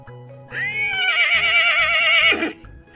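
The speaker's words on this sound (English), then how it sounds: "Horse says neigh." A horse whinnies loudly for about two seconds, a bright wavering neigh with quivering pitch that tails off at the end, standing alone with no talk.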